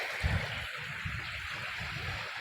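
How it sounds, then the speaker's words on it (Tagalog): Waves wash against a beach at the seaside in a steady, broad roar, with low rumbling surges rolling in every half second or so, close and fairly loud. "dito pa rin tayo sa tabing dagat"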